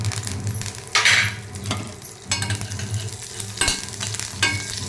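Curry leaves spitting and sizzling in hot oil for a tempering of mustard seeds, urad dal, chana dal, cumin and dried red chillies, with steady close frying and bursts of crackle, plus occasional stirring clinks.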